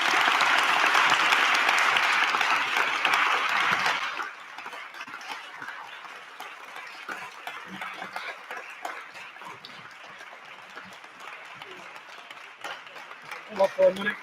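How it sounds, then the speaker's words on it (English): A crowd at a gubernatorial candidate forum applauds loudly for about four seconds, then the clapping thins into scattered claps, murmuring voices and shuffling noise through the rest. "Let's give them a round of applause, everybody."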